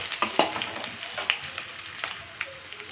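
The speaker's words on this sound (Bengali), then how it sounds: "এবার কুচানো পেঁয়াজ কুচিগুলো আমি দিয়ে দিচ্ছি আর সাথে কেটে রাখা কাঁচা লঙ্কার টুকরোগুলো আমি দিয়ে ভালো করে দেখো নেড়ে নিচ্ছি" Chopped onions and green chillies stir-frying in a pan, a soft continuous sizzle broken by several sharp spoon scrapes and clicks, close by with no talk.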